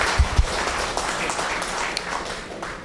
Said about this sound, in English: Give she a nice one applause, Silver.